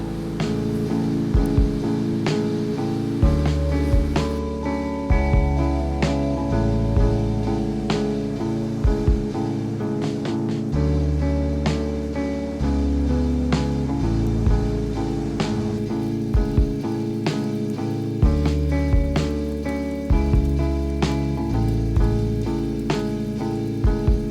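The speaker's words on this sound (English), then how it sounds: "It is raining now, so that really sucks." Steady rain falls outdoors in a city street, a continuous hiss with scattered droplet ticks and occasional passing noise, fairly close and without talk.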